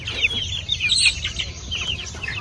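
Healthy Hubbard hens being sold cluck continuously in a close, busy flock, with overlapping short calls and a low hum beneath.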